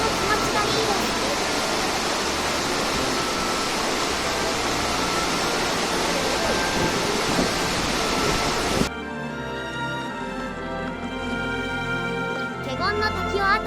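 Kegon Falls roars at its base with loud, dense broadband water noise for about nine seconds, then the scene cuts to a quieter stretch of steady rushing with faint tonal sounds.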